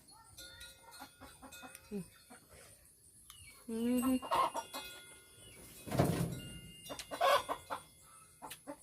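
Chickens cluck and a rooster crows at an evening market in Uthumphon, Savannakhet, Laos, with one clear crow near the middle and scattered clucks before and after among background market noise.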